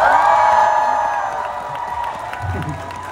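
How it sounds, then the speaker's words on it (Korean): A festival crowd at a lakeside outdoor stage cheers and whoops for a band member, a broad loud roar of voices with some clapping that gradually eases off. "현우님한테 박수 한번 주십시오."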